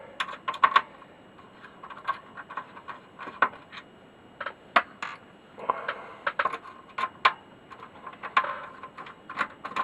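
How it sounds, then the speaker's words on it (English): The keyboard being taken out of a Dragon 32 home computer: irregular plastic clicks, taps and rattles, close and fairly quiet, with bursts of clatter spread across the stretch. "I'll take the keyboard out"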